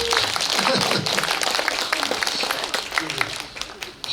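Dense, loud applause from an audience at a humanities concert in an old house, a continuous crowd clapping that fades slightly toward the end, with a voice speaking over it.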